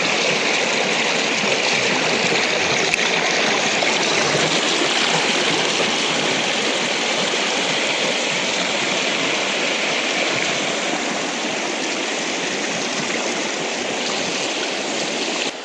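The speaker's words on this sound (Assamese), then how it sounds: "চাওক কিমান কাৰেণ্ট, চাওক কিমান কাৰেণ্ট, নদীৰ চৰচৰণিৰ শব্দত একোৱেই নুশুনি" A river current rushes past a bamboo fish weir, a loud, steady churning wash of water heard up close without pause and with no voices over it.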